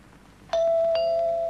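A two-tone doorbell chime in a classic British TV advert, a sharp ding followed by a second tone that rings on with a steady sustained note, loud and clear against a quiet background.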